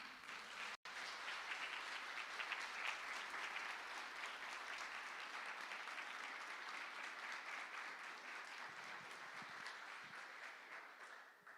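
A church congregation claps for mothers during a Mother's Day service, steady sustained applause filling the room, fairly faint and continuous throughout.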